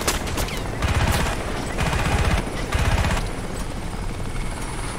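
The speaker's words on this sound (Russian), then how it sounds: "он все патроны у меня выстрелил" Gunfire in the video game Crysis, heard as repeated bursts of shots over the loud, steady beat of a helicopter's rotor, with the combat noise continuing throughout.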